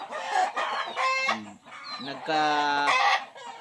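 Hens in a net enclosure clucking and squawking in a few loud, close bursts, with rising drawn-out cackles separated by short pauses.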